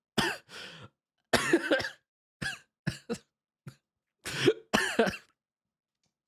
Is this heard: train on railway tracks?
no